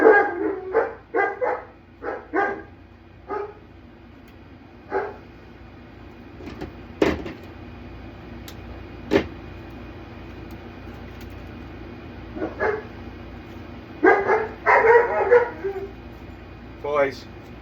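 Several dogs bark in sharp clustered bursts, with scattered single yips and gaps of quiet between volleys, fairly close and loud in a room, a few knocks and a brief voice mixed in.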